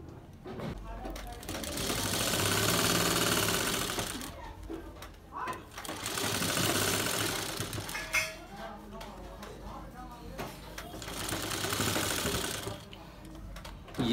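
A sewing machine stitches the belt onto a Lucknowi gharara in three long, steady runs, each lasting a couple of seconds and separated by brief pauses filled with handling sounds; the motor hum is close and fairly loud.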